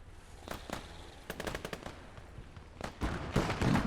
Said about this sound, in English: The Daimler here has a, what was it again? A 2-pounder 40mm gun, or cannon attached to it.